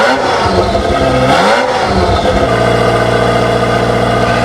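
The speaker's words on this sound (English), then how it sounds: "It's the Ferrari F40 with 478 horsepower." Ferrari F40 with its turbocharged 3-litre 32-valve V8 of 478 horsepower, revving loudly up and down close by before settling into a steady, throbbing high-rev drone.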